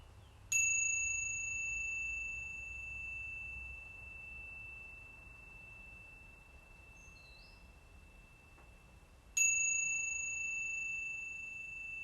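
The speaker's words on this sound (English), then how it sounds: "this bell is not signifying the end of this section, but just bringing some extra clearing into the solar plexus" A bell is struck twice, about nine seconds apart, in a quiet room during an energy-clearing session, each bright tone ringing out clearly and fading slowly.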